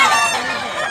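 A rooster at a fighting-cock farm in Tabunok, Talisay, Cebu lets out one loud, close crow that stays strong through the whole call.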